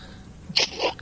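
A single sneeze from a character in the game Borderlands 3, a sharp burst followed by a softer tail, heard close and alone with nothing else around it.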